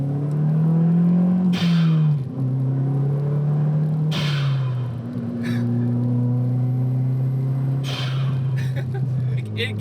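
An MK4 Volkswagen Golf GTI turbo engine drones loud and near, broken by three sharp bursts of turbo flutter as gears shift, the engine tone dropping after each.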